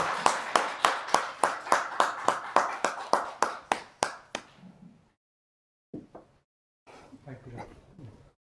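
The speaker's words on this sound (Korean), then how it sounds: "큰 박수 부탁드립니다" Audience clapping after the introduction of a guest lecturer at a temple event: about sixteen sharp, evenly spaced claps over four seconds, then silence and a few faint sounds.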